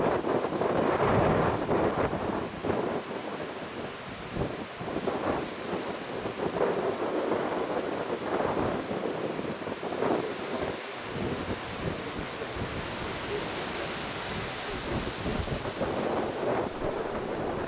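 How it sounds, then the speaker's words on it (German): Strong wind roars across a forest meadow and windbreak belt during a roebuck hunt, a loud continuous rush with rumbling gusts and buffeting against the microphone, and no voices. "Die lauten Windgeräusche ausnutzend ging es langsam, aber beständig voran."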